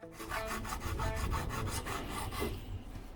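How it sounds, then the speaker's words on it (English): A metal file is drawn flat along an RC boat rudder blade to sharpen it, making rhythmic, close, rasping strokes at an even pace. "whenever I'm sharpening my rudders, alright, I like to keep my file as flat as I can to the rudder"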